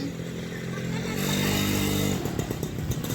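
A scooter approaches nearby, its engine drone growing louder and steadier, then breaking into rougher sputtering as it slows and arrives.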